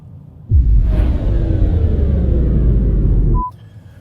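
Low road rumble fills the cabin of a car moving through traffic, starting abruptly, holding steady and loud for about three seconds, then cutting off, with no talking.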